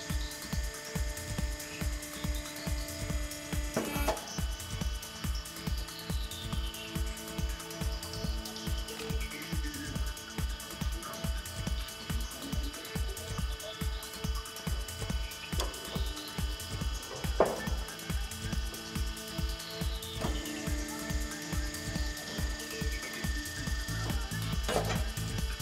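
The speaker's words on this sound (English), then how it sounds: "Move the mounting arm to the inner side of the wheel." A TWIN BUSCH TW X-60 T truck tyre changer works on a truck wheel, giving a continuous mechanical hum with rapid, evenly spaced clicking and knocking and slow rising and falling motor tones throughout, with no voices.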